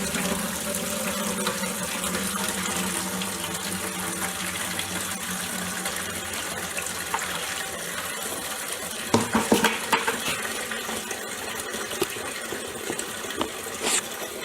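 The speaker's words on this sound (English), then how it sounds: "So I'm going to put the other bucket underneath there and pour this in" A full bucket of water is poured steadily into a shower drain in a RedGard waterproofing failure test, giving a continuous splashing gush for the whole stretch with a few sharper splashes toward the end and no talk.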